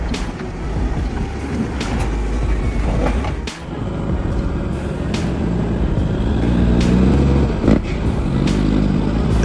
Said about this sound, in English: The heavy truck, a metal monster on wheels, roared to life, the engine roaring like a caged beast.